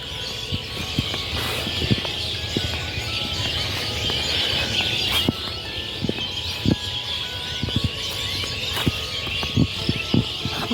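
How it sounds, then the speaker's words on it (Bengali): Birds chirp and twitter steadily against a dense evening chorus in a Bangladeshi village, with short sharp calls popping out here and there over a busy, constant background. "পাখিগুলো কিরকম কিচিরমিচির করছে"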